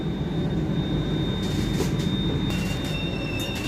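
Rajdhani Express train running near Kathua Junction on the New Delhi to Jammu Tawi route, heard from inside a 2AC coach as a steady loud rail rumble with faint squealing tones from the wheels.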